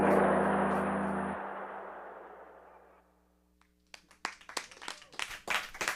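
A small live lounge audience claps in scattered, uneven bursts, a few hands close by. The claps start after a fading musical tone and a near-silent pause.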